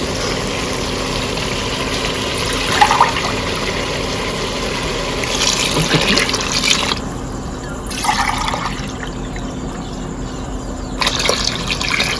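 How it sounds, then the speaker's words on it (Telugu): Water poured from a vessel into a pot for chicken dum biryani, a steady close splashing and gurgling pour lasting several seconds with brief dripping pauses. "నాకు రెండు అయినాయి కదా మూడు చెంబులు వాటర్ పోసేసుకుంటాను"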